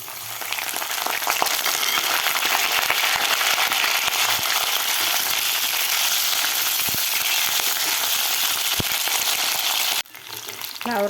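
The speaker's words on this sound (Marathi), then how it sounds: "याच तेलामध्ये आपल्याला हे फ्लावर सुद्धा व्यवस्थित फ्राय करून घ्यायचं आहे तेलामध्ये" Cauliflower florets fry in hot oil with a loud, steady, dense sizzle that holds for about ten seconds before dropping off sharply, then rising again; no voices.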